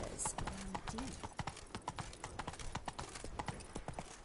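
Roach the horse gallops in The Witcher 3: Blood and Wine, with steady, fast clip-clop hoofbeats running the whole time and a brief voice or whinny-like call near the start.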